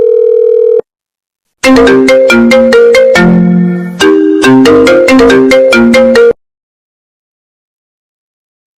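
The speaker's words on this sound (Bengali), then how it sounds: "অজমের একটা ফোন দেন" A short tone, a pause, then a bright electronic phone ringtone plays a quick melodic run of notes for several seconds before cutting off into silence.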